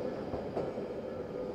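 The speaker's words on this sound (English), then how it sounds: "Oh, we got the train going." A train rumbles past in a steady, continuous wash of rolling rail noise, moderately near, with no one talking over it.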